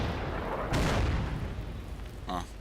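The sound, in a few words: artillery fire in Order of Battle: WW2 video game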